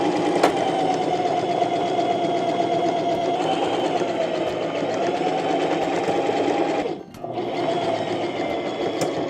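Sewing machine running steadily while stitching together the liner of a tote bag made from old denim jeans, a fast even whir close by that breaks off briefly near the end, then resumes.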